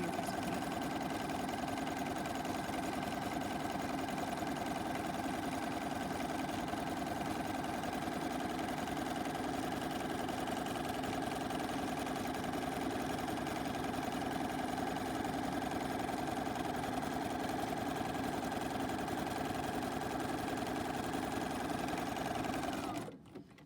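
A sewing machine stitches a pillowcase in one long, unbroken run, its motor humming and needle chattering at a steady fast pace, close and clear, before stopping abruptly at the end.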